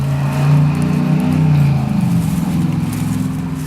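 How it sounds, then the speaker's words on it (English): Neighbors' motorcycle engines rumble steadily nearby, a low droning roar that rises slightly then slowly fades as they pass, heard from a garden. "Sorry about the stupid neighbors with the motorcycles."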